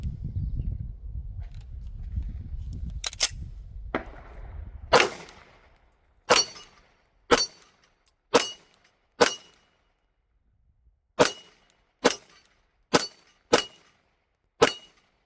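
Canik pistol firing rounds downrange at about 10 yards with an Olight Osight RMSc red dot mounted, a dozen or so sharp, loud cracks spaced about a second apart, the first few over a low rumbling background, the rest alone with silence between.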